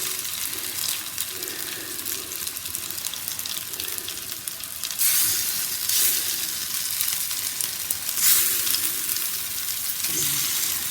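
Fish fingers fry in hot oil in a home kitchen, a constant close hiss and sizzle that swells louder in places, with no talking.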